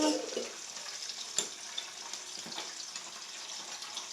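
Water pouring in a home kitchen while rice is being served, a soft splashing rush that is strongest at the start and then settles into a thin, steady trickle with a few small knocks, close by and without talk.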